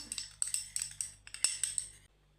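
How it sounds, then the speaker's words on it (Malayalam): A spoon stirs a coffee powder face pack in a small bowl, making about ten quick, close ringing clinks in a steady rhythm before stopping. "ഇനി നമുക്ക് നന്നായിട്ടൊന്ന് മിക്സ് ചെയ്യാം"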